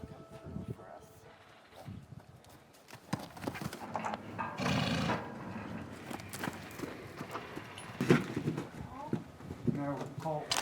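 A Nokota stud horse runs past with quick hoofbeats and a clear whinny, moving near then away, while people talk over the scene.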